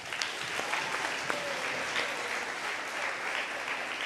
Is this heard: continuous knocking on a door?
no